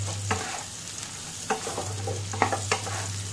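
Chopped onions stirred into an omurice egg mixture in a pan, a soft steady sizzle with a low hum beneath and several distinct scraping strokes spread unevenly through the clip.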